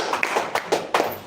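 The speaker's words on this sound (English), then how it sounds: "Wow, a round of applause." A small audience at a self-confidence talk claps, a handful of sharp, separate claps spaced unevenly over about a second, close and moderately loud.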